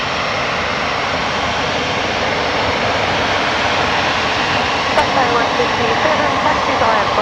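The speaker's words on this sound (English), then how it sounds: "Emirates is about to touch down, mate." An Emirates airliner landing at Brisbane Airport, a loud continuous engine roar and rush at close range that holds steady and swells slightly near the end, with people talking over it.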